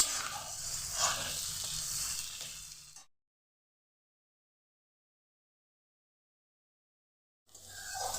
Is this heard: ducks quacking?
no